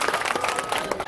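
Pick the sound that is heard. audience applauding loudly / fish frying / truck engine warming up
audience applauding loudly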